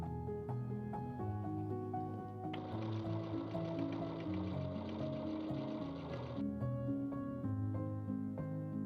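Sewing machine stitching a small fabric label, running in a steady continuous whirr that swells to a louder, busier burst midway before settling back, with no talk.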